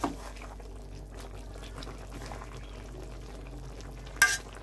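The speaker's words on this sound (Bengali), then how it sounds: "নাড়াচাড়া করে আবার একটু মিশিয়ে নেব মাছের মধ্যে, শাকের মধ্যে, যাতে ডাঁটার মধ্যে মশলাটা পৌঁছায়।" Fish with three kinds of leafy greens and stalks is stirred in a frying pan, a low steady sizzle with soft scraping under it and one sharp clink of the spoon near the end.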